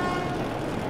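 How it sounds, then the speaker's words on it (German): A train in the video game Metro: Last Light Redux, heard as a dense, continuous rumble and hiss over one second, loud and close, with a faint horn-like tone mixed in. "Das ist der Zug. Wir sind richtig."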